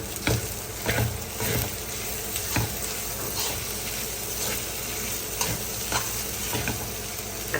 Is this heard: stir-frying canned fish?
yes